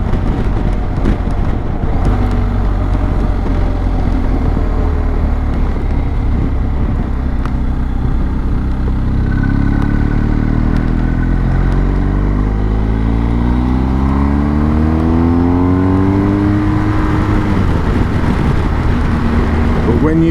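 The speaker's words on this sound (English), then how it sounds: "hear that engine roar, you can just feel the power and the pull." A BMW R1250GS Adventure motorcycle engine roars and pulls hard, its pitch climbing in repeated sweeps as the bike accelerates through the gears, loud and close with steady wind and road rumble throughout.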